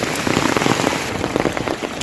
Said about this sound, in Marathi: हे माहिती नाही कधी थांबतोय पाऊस